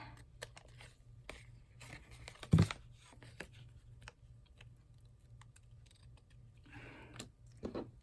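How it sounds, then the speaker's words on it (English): Scissors trim lace for an altered-book collage, making faint, scattered snips and small paper-like rustles in a quiet room. One louder crisp cut stands out near the middle. "Let me trim off the lace."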